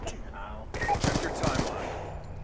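Rapid automatic gunfire in Black Ops 2 on PC, a sudden loud burst of shots cutting in after a quieter start and trailing into a steady rattle, with a voice briefly under it.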